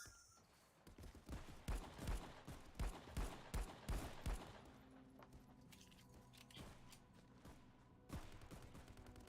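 Gunfire in a VR shooter video game: a run of quick repeated shots in bursts, then quieter scattered firing and game ambience, all faint.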